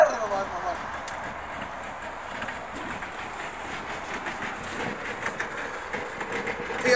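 Whistling turbo and engine bay of a car with an overheated engine and a failed electric cooling fan, giving a steady rushing, train-like hiss with faint rhythmic clatter, heard close throughout.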